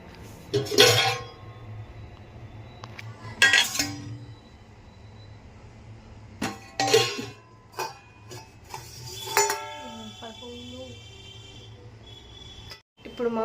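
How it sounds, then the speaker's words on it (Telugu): Dirty dishes clink and clatter in a few separate bursts as a woman handles them at home before washing, with quieter knocks between and a low steady hum underneath. "ఇదిగోండి ఈ అంట్లు ఉన్నాయి బయట వేసుకోవాలి ఇప్పుడు ఈ అంట్లు తోమాలి"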